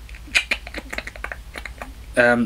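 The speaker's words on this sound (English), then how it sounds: "the Predator makes a clicking sound" Rapid clicking of the Predator creature sound effect from the Alien vs Predator film, a series of sharp dry clicks that end in a louder burst of clattering clicks.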